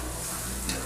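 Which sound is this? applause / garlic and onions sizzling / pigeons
garlic and onions sizzling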